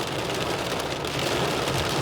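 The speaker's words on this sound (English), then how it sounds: "See how much rain is happening?" Heavy rain drums on a car during driving in Toronto, a dense, loud, steady roar of drops on the roof and windshield with a faint low rumble underneath.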